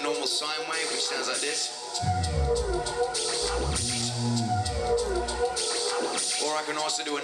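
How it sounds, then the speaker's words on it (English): A low, smooth, sustained sine wave bass tone hums under a continuous looped musical backing, holding steady with slight pitch changes. "One is just a normal sine wave"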